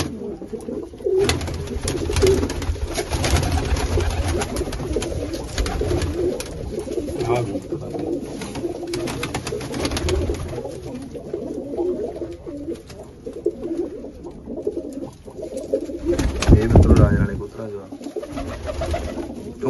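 Pigeons, a prized racing breed, coo in a loft setting, a soft repeated throaty murmur running beneath nearly continuous conversation between men.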